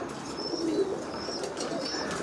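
Pigeons in a spinner loft coo softly, a low steady burble close by, with faint chirps over a hushed background.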